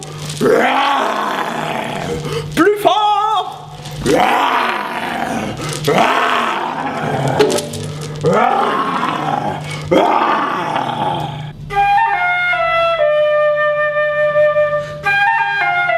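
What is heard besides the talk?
lion roaring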